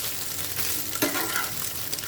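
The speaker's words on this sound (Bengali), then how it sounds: "এগুলো খুব ভালো করে একটু ভেজে নিতে হবে।" Ingredients for Badshahi polao frying in a pan give a steady, close sizzle with a brief stirring scrape midway, with no voices over it.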